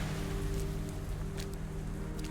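Steady, soft rain in a video game patters continuously, with a low hum underneath and a few faint drips standing out.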